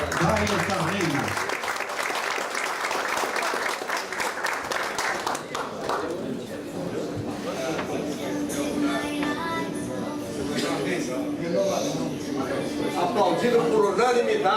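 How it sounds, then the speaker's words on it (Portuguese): Audience applause at a formal launch ceremony for an association school, steady dense clapping filling the room for the whole stretch, with voices and a speaker talking over it partway through. "Aplaudido por unanimidade, viu?"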